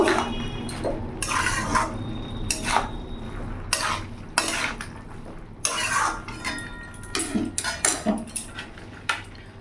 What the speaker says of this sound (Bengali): টমেটোটা আমি দিয়ে দেবো ভালো করে মিশিয়ে নেব